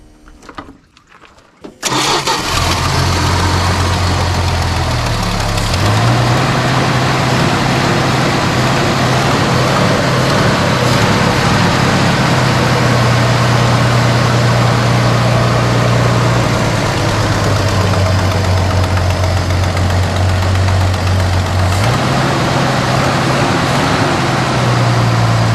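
A 1973 Dodge Dart Swinger barn find catches and runs for the first time in 29 years. Brief rustling leads into a loud, steady engine drone that shifts in pitch as the revs rise and settle.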